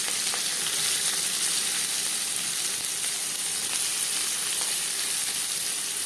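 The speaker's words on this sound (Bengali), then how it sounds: "পেঁয়াজ হালকা করে ভেজে নেব।" Chopped onion frying in oil in a wok used earlier for potatoes, giving a loud, even, close hiss and sizzle with a few faint stirring scrapes, and no talking.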